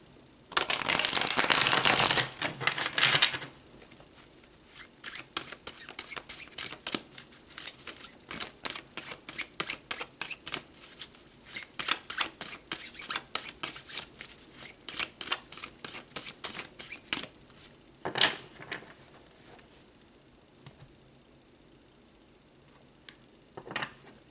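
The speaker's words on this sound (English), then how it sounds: "So let's pull some cards." A deck of tarot cards is shuffled and handled: a loud burst of riffling at the start, then a long run of quick, close flicks and soft snaps as cards are drawn and laid down. Nobody speaks.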